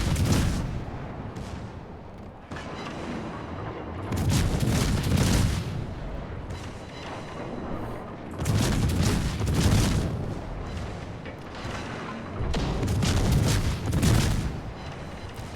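Main battery and secondary guns of the warship Mainz fire in a naval battle video game: loud, heavy booms and rumbling salvos come in repeated bursts, overlapping into a dense, continuous barrage.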